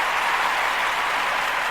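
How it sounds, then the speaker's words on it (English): A dense round of applause from a gathered group of family members, steady and continuous throughout with no voices over it. "Give yourself a round of applause, brother Tim."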